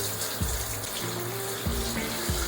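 Kitchen tap running steadily while raw chicken pieces, including leg pieces, are washed, water splashing and shifting in pitch in a continuous close flow, with no talk.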